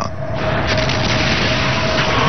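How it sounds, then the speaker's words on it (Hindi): A deep documentary sound effect of a supernova star explosion: a loud, rolling boom that swells and sustains with a dense low rumble. "ये किसी तारे के भयंकर विस्फोट से निकलने वाली जबरदस्त ऊर्जा है"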